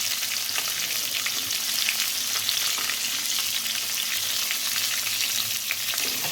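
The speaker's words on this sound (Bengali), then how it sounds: "এগুলো কিন্তু একসাথে সুন্দর করে ভেজে নিতে হবে" Whole cumin, tomato, ginger, garlic and green chili fry in hot oil, giving a loud, steady sizzle with faint stirring and no voices.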